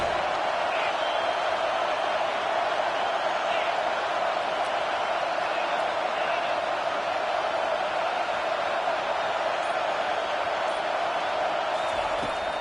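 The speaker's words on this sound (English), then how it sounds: "Decibels rising as the crowd gets behind this defense on 3rd down." Video game football stadium crowd on third down, a dense steady roar of cheering that holds at a constant loud level throughout, with no clear individual shouts standing out.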